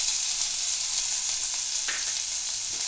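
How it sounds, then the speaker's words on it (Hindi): Ginger and chopped onion sautéing in a pan for Sindhi tomato chutney, a steady close sizzle and fry with faint stirring and no talk. "अदरक को कुछ सेकंड के लिए इस तरह से सौते करेंगे। और इसमें जो ये एक प्याज कटा हुआ है ये डाल दिया।"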